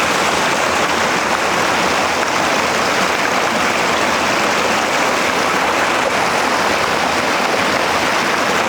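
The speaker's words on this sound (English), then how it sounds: "These little brook trout streams like this" A small flowing brook trout stream rushes steadily, a loud, close, unbroken wash of water with no voices over it.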